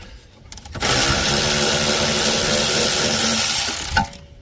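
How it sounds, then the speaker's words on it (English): A power tool spins out the 14 mm caliper bracket bolt on a rear brake of a Kia Sedona, one loud continuous whirring burst of about three seconds, close up, with a short clack as it stops. "now it's time to remove the first bolt of the bracket of the caliper"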